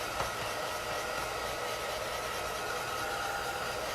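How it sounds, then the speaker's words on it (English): A blow dryer runs continuously with a steady, loud whooshing hum, nothing else audible. "don't mind my blow dryer here"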